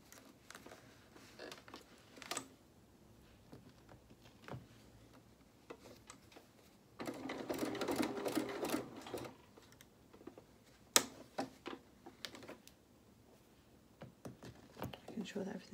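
A sewing machine stitches a shirt cuff sleeve near a button, giving one quiet burst of rapid stitching lasting about two seconds amid scattered soft clicks and handling taps.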